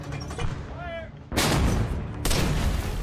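Artillery and gunfire during a D-Day battle, two heavy booming blasts about a second apart, loud and close, with a shrill whistle and battle noise before them.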